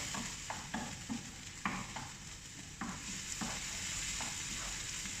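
Tuna sizzles and fries in a pan under a steady hiss, with repeated scraping stirs every half second or so, close and fairly quiet, with no speech.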